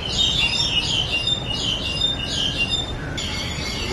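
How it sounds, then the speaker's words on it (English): Birds calling near a feeder in a zoo animal park, with repeated high chirps and tweets in a steady pattern over a constant background hum, clear and fairly close. "The bird up on the feeder is a green-winged dove."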